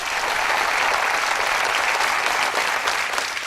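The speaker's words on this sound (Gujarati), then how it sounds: "એવા નેતાઓ માટે એકવાર જોરદાર તાળીના ગડગડાટથી વધાવો." An audience at a live Gujarati comedy show breaks into loud, sustained applause, a thick even roar of many hands clapping at once that holds for several seconds.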